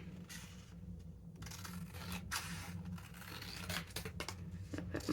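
Scissors cut paper for a junk journal page in a series of close, quiet snips and crisp slicing strokes, with faint rustling of the paper between cuts.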